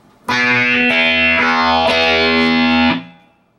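Distorted electric guitar chords strummed on strings 4 and 3 in a short phrase from an intro riff, a few strums ringing loudly together before cutting off cleanly.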